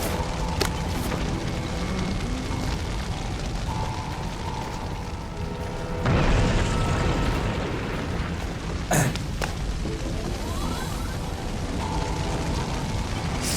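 Healing bombs burst in the video game We Happy Few, with a sustained booming, eruptive roar under a dense game soundtrack and a sharper blast partway through.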